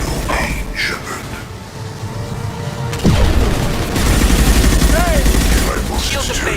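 A heavy impact shot fires in the Mass Effect video game, landing as a sudden loud boom about halfway through over busy combat noise, with talk around it.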